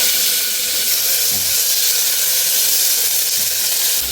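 Onion frying in mustard oil with dried red chillies, whole mustard seeds and curry leaves in a pressure cooker, a loud, steady, close hissing sizzle with a couple of faint low knocks and no talking.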